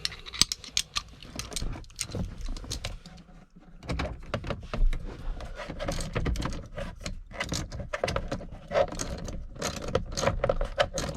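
Screws are driven and snugged down on a Nissan Titan instrument cluster, giving close, irregular small clicks and ratcheting ticks with short scraping bursts and pauses, no talking.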